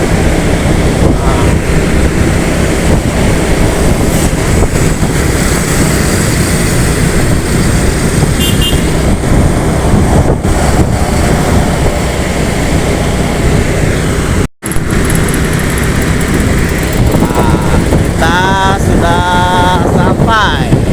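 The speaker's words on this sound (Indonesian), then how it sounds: "langsung ngejos aja nih bus" An ALS intercity bus (ALS 301) speeds toward the Palembang depot, a loud, steady roar of engine and rushing wind that stays unbroken except for one brief dropout near the end.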